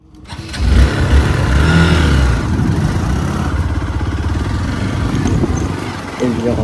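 Motorcycle engine running steadily while riding on a road, a continuous mid-pitched drone with some revving, loud throughout, with someone talking over it.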